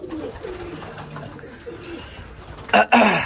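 Pigeons coo in a loft, a soft low rolling cooing repeated through most of the stretch with no talk, then a brief louder rustle or flutter near the end.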